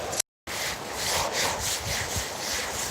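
Hands rub and churn through wet sand and small clams in a tide pool, a close, continuous gritty swishing with a brief dropout near the start.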